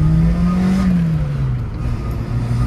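A Renault Clio engine revs steadily, its note climbing then easing and settling into a lower drone, loud and continuous with no voices.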